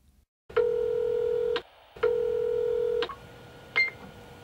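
An answering machine plays electronic tones before a message: two long steady beeps, each about a second, then a short higher blip, loud and clean against near silence.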